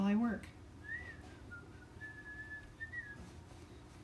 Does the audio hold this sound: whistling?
yes